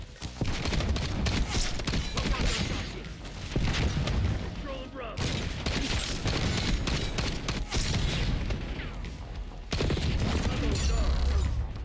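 Marksman rifle fire in Black Ops 6 comes as dense, rapid bursts of loud shots layered with game effects, close and almost continuous, with a couple of brief gaps.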